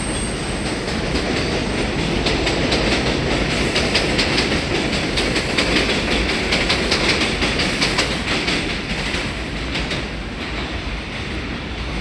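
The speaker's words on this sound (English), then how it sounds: "You guys hear the subway?" A subway train rumbles past loudly and steadily, with clattering wheels and faint metallic squeals throughout.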